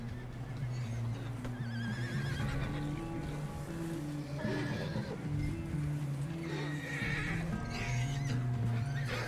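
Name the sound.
horse neighing in the video game Red Dead Redemption 2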